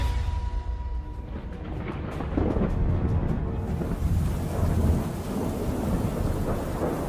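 Cartoon thunderstorm: a deep rolling rumble of thunder over steady heavy rain, loud and continuous with no talk.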